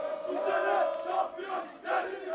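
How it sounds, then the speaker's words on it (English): Extremely committed Turkish soccer fans chant and shout together as a dense crowd, a loud, sustained wall of voices rising and falling in surges with no single voice standing out. "These guys are the most crazily committed fans in Turkish soccer."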